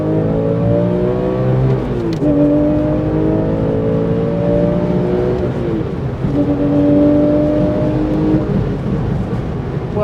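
Engine of a 2004 Porsche 911 (996) GT3 RS pulling hard in second gear, loud and continuous with rising revs, a brief dip around a shift near two seconds and another near six, heard from inside the cabin.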